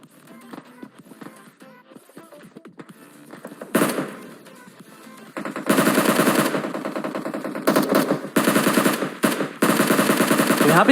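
Bursts of automatic gunfire from a battle royale video game battle, sporadic at first, then loud rapid volleys that cut in and out repeatedly.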